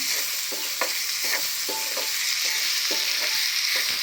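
Chopped dry onion frying in a hot pan for green pea kababs, a steady loud sizzle with soft rhythmic scraping as it is stirred.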